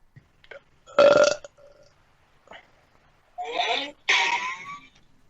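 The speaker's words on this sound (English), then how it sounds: "So this is sort of the double belch of justice." Loud, raspy human belches after downing the world's hottest pepper on a comedy show: one strong burp, a pause, then two long back-to-back belches close to the mic, with no talk over them.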